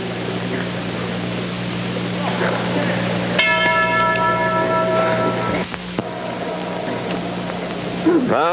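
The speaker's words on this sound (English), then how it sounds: "This is Gil Cadilli standing in his corner waiting for the bell, and he need wait no longer." A boxing ring bell rings once to open the fourth round of a 1955 bout, its bright ringing tones sustaining for a few seconds over a steady crowd murmur in an arena.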